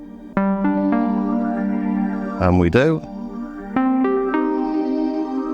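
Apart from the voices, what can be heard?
synthesizer phaser effect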